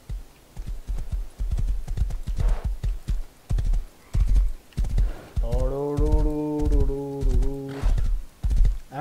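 Horse hooves clip-clop in the survival game Rust, a steady quick trotting patter of hoofbeats mixed with game sounds and a droning tone.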